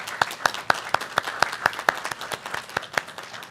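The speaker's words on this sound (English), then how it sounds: "So give yourselves a round of applause." School board meeting audience applauding, with distinct individual claps rising and falling in an irregular rhythm over a few seconds, fairly close, with no talking.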